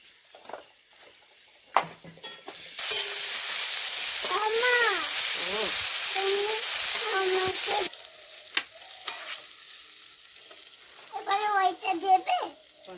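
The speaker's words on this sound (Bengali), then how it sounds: "তো তেলের মধ্যে এবার পেঁয়াজ কুচি দিয়ে দেবো তো এবারে রসুন বাটাটা দিয়ে দিলাম" Chopped onion and garlic paste hit hot oil in a pan, bursting into a loud steady sizzle for several seconds before cutting out, with voices and someone talking around it.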